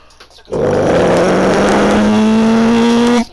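A voice imitates a truck engine with a loud, steady roar that climbs slowly in pitch for about three seconds, then cuts off.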